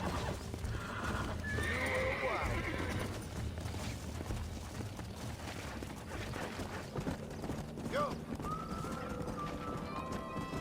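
A stallion in the video game Red Dead Redemption whinnies with high, wavering neighs over busy hoofbeats and clip-clop, close and loud, while other horse snorts and in-game sounds mix in throughout.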